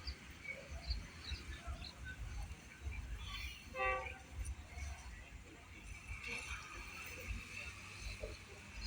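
An ordinary Thai passenger train pulls into platform two at Lopburi station with a low rumble and a short horn blast midway, while a distant Thai announcer's voice carries over the station background.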